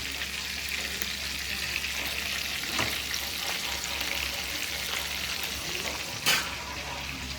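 Prawns or fish fry in hot oil in a pan, making a steady, close crackling sizzle throughout, with a brief utensil clink near the end.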